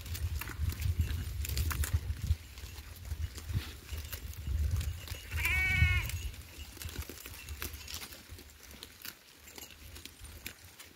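A sheep gives a short wavering bleat at middle distance while a flock grazes on good fodder outdoors, set against soft rustling and faint background noise with no talking.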